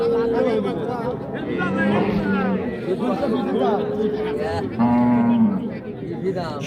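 Several nearby cows moo in drawn-out calls amid a busy crowd of chattering voices, one low moo standing out near the end, at the Raniganj cattle market.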